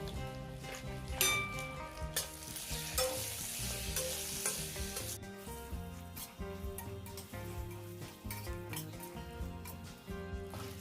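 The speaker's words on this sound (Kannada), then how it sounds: "ಜೀರಿಗೆ ಪುಡಿ ಹಾಕಿ ತಿರುವಾಡಿ ಮುಗಿಸಿ ರೀ" Cumin powder being stirred and fried in a pan for a North Karnataka vegetarian thali, a steady close sizzle with repeated scraping and clinks of a spoon against the metal, continuous throughout with no talking.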